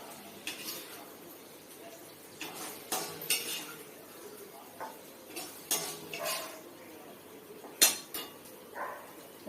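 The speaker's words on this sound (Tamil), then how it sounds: "இதை இப்போ நம்ம சர்விங் டிஷ்ஷுக்கு மாற்றிடலாம்." Dishes and utensils clink in sharp, scattered knocks as okra curry is moved into a serving dish in a home kitchen, a steady run of close taps and scrapes with no talk.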